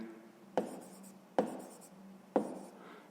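Pen strokes on paper while working out a sixth-grade maths exercise converting cubic centimetres to millimetres, three distinct close taps with short scratchy writing after each, in a quiet room.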